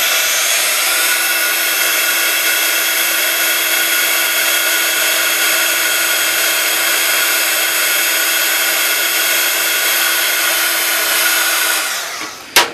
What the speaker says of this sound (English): you grab your heat gun again to set it